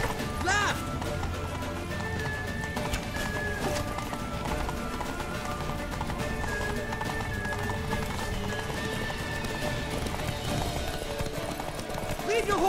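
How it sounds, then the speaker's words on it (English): Horses gallop with rapid clip-clopping hooves in The Witcher 3, a steady rhythmic beat under battle noise and shouted voices, with a brief neigh. "Leave your horse! We have to!"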